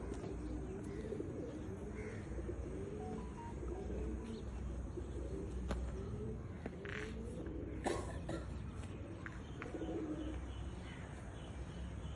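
Racing pigeons coo softly at a distance during an outdoor pigeon-flying tournament, with low steady background noise and occasional light chirps.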